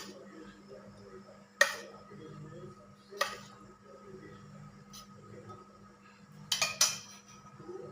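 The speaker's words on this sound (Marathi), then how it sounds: "आणि आता हा पॅन ठेवते पॅन गरम झाल्यावर मी त्याच्यामध्ये दोन चम्मच तूप टाकते" A metal pan is set on a gas stove and ghee is spooned in, heard as a few sharp clanks and clinks spaced a second or so apart over a low hum.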